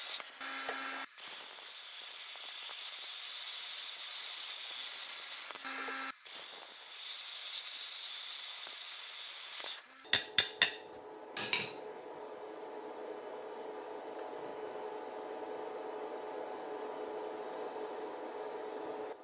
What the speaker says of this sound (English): The torch didn't skip a beat and cut through the tubing without any trouble.